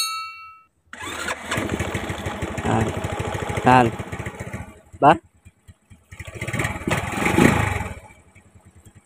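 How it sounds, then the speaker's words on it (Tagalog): A motorcycle is push-started and its engine catches, settling into a steady, throbbing idle with a couple of brief louder bursts, while someone talks over it. "Tingnan nyo mga kaibigan, ha, pag push-start ko, andar na yun eh."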